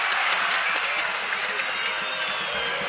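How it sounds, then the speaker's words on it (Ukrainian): A large stadium crowd roaring and cheering continuously, a dense wash of noise from many voices at a distance, with scattered clapping. "чуєте, як реагують на це трибуни"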